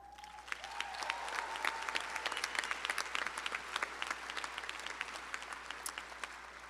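A commencement audience for a law school ceremony applauds faculty with sustained, dense clapping that fills the hall at steady loudness, with a faint tone and a murmur of voices early on.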